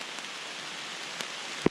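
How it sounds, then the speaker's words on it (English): Light rain starting to fall in woodland on Dartmoor, a soft steady hiss of drops with a single sharper tap near the end. "It's starting to rain now, so enough's enough."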